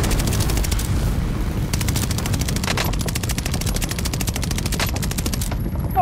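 Sustained automatic gunfire and booming shots in a Call of Duty: Modern Warfare firefight, loud and continuous throughout with dense overlapping bursts and no speech.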